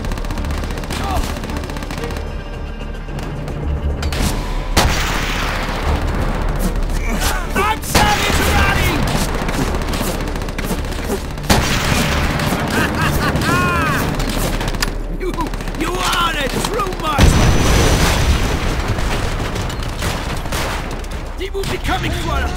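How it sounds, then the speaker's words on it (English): Battle in Call of Duty: World at War, with tank artillery and dense small-arms fire crackling in loud bursts and booms throughout, a heavy low blast near the end, and shouted voices mixed into the chaos. "Before their tanks fire again!"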